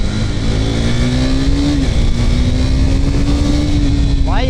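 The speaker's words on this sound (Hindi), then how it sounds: "एग्जॉस्ट नहीं है फिर भी बहुत लाउड है ना।" Loud, steady engine revving from a vehicle with no exhaust fitted, riding through city streets at night; the drone holds throughout with a pitch that climbs, dips and rises again.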